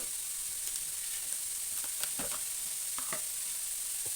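Chopped ginger sizzles in a pan for an egg and broad bean curry, a soft steady frying hiss broken by occasional light scrapes and taps of a stirring spoon.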